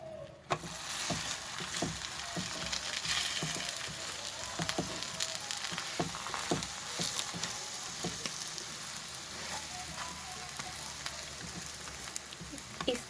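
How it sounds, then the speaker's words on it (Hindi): Aloo paratha frying in ghee on a hot pan, a steady soft sizzle with occasional crackles and light scraping taps running throughout. "ताकि इस तरफ से घी के साथ पराठा हमारा पक जाए"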